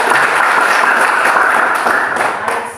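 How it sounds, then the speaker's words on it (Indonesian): A classroom of students applauds a classmate, steady dense clapping filling the room from start to finish and easing slightly at the end. "beri aplaus untuk teman"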